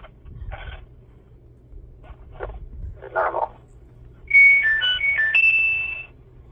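A phone ringtone plays a bright, repeating electronic melody, loud and close, after a few scattered short knocks and rustles in a quiet room.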